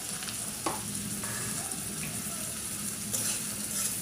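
Chopped onion and green chili fry in a pan, a soft steady sizzle with a few scattered scrapes and taps of stirring, fairly quiet and close.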